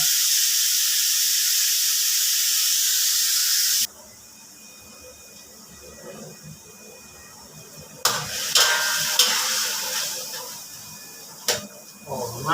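Pork belly stir-frying in a wok for a bok choy and oyster sauce dish: a loud, steady sizzle for the first few seconds, then a quieter hiss with occasional sharp clinks and scrapes of the spatula.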